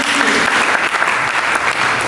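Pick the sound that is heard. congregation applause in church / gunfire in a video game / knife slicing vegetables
congregation applause in church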